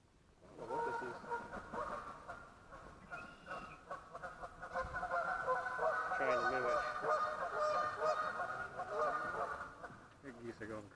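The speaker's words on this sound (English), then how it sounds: "The geese are going crazy over there," Geese honk in a noisy, overlapping chorus from across the water at a crappie-fishing spot on a nature walk, carrying on steadily throughout while someone talks over them.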